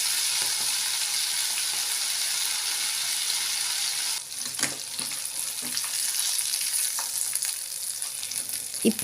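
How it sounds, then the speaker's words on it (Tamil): Quail deep-frying in hot oil over a medium flame, a steady close sizzle with crackling pops throughout, briefly dipping around the middle before resuming at full intensity. "இப்போ காடையை பொரித்து எடுத்துக்கலாம்"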